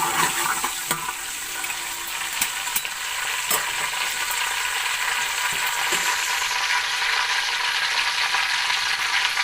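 Whole garam masala spices fry in a cup of hot cooking oil, giving a loud steady sizzle with bright crackling pops and a few sharp clicks of a utensil against the pan, no voices over it.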